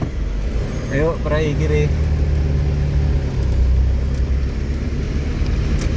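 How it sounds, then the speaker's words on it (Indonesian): Buses and other vehicles pass on a road between Sukoharjo and Gunung Kidul, giving a steady rumble of traffic throughout while a voice speaks briefly near the start. "Ada bus-bus kebetulan lewat ini tadi."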